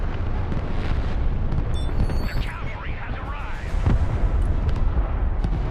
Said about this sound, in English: I just put 2 cruise missiles on it